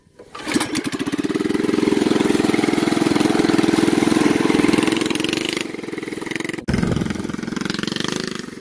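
A go-kart's small engine cranks and catches, then runs at a steady, loud idle with a brief dip near the end before carrying on.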